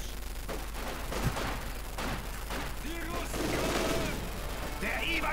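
Scattered gunfire in Company of Heroes 2, fairly faint and distant pops and bursts spread across a few seconds under a busy battle ambience with voices.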